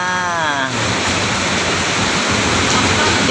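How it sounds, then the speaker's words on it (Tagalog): Rain pours steadily on a street in Divisoria, a dense loud hiss filling the whole scene, with a brief voice heard at the very start. "It's raining in Divisoria"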